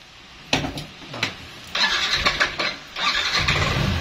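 A motor scooter engine on its side stand starts up in a few short cranking bursts, then catches and runs unevenly near the listener, revving in uneven surges.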